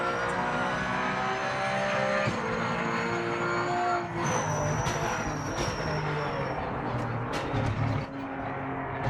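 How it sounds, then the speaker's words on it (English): Porsche Cayman under braking at Imola in the racing game Project Motor Racing, with a loud engine note dropping on the downshift and rear tyres squealing as they lock, followed by a steady engine drone. "Downshift to second. Wants to lock up the rears."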